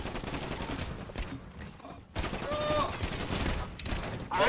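Gunfire in a GTA V roleplay shootout, sustained bursts and volleys running through the whole stretch under muffled game and voice chatter, growing busier and louder in the second half.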